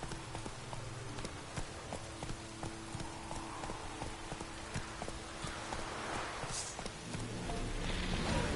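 Roach the horse in Witcher 3 walking with a steady, regular clip-clop of hooves, quiet and moderately close, over a faint ambient background of light rain.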